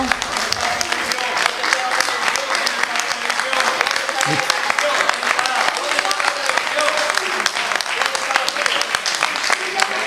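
Steady applause fills a city council plenary session in Zaragoza, a dense even clapping from many people in a hall, continuous and moderately loud for the whole stretch.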